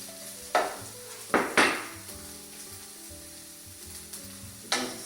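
Green peppers dropped into a hot frying pan for keto chicken fajitas, crackling in a few sharp bursts with clattering pan and utensil knocks between them, close and fairly loud, no voices.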